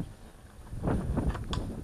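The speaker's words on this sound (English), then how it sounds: "I guess you won't be able to hear me too well because it's quite windy today" Gusty wind brushes an outdoor microphone beside a 30 HP Mariner outboard, a quiet low rumble that swells into a few louder puffs toward the end.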